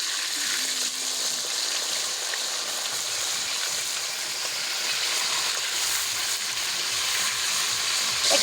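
Pieces of pangas fish, a large pond-raised fish, fry in hot oil with a steady, even sizzle and hiss that holds throughout at close range, with no talking.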